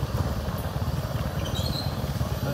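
A motorbike engine runs steadily close by, a continuous rumbling drone on a forest village road, with no talking.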